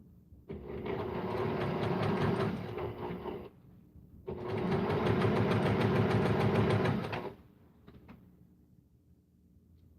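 A sewing machine stitching a needle minder wall hanging, two steady rapid runs of mechanical whirring and clicking a few seconds each, separated by quiet pauses.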